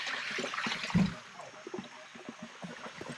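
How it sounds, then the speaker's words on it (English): A waterfall on a hiking trail in Antigua, heard as a steady broadband rush of falling water with trickling detail, moderately close and continuous. "First waterfall!"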